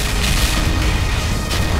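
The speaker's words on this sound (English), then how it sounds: "all the guns are firing on us" In the video game Clear Skies 3, sentry guns fire on the player with a loud, continuous barrage of deep booms and thumps that blend into a dense, rumbling roar.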